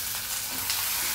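Ginger garlic paste fries in a hot pan with curry leaves and onions, giving a brief, continuous soft sizzle with no voices.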